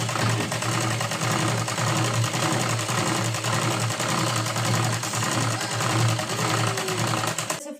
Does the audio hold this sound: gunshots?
no